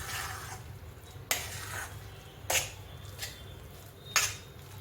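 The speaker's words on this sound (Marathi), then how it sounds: "तर मग थोडंसं परतून घ्यायचं." Sweet potato sheera, thinned by added sugar, being sautéed in a pan, with a low steady background hiss broken by four scattered spoon clinks and scrapes against the pan, close, with no talk.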